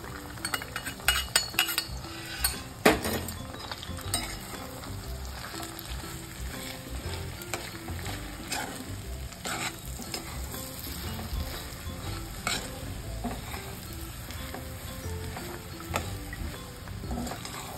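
Semolina sheera sizzling and frying in ghee while a spoon stirs in fried pistachios, raisins and cashews, with steady crackling and frequent metal scrapes and clinks against the pan, close and continuous without speech.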